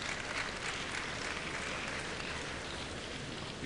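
A tennis crowd in an indoor arena murmurs and claps in a broad, steady wash of noise after a close line call, distant and fairly faint with no distinct voices standing out.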